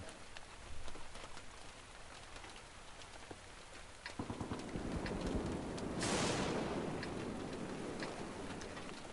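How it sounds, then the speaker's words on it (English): Steady rain falls across the Malinovka map in the World of Tanks video game, a continuous hiss that swells louder partway through, with scattered drip-like taps and a brief brighter gush near the end, no talking. "In the rain."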